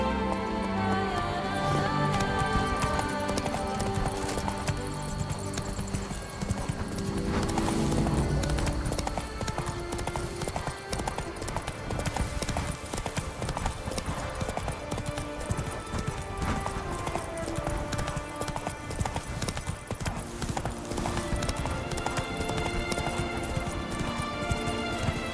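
Horse galloping in the video game The Witcher 3: Blood and Wine, a loud, continuous rapid clip-clop of hooves under a full orchestral music score throughout, with no pauses.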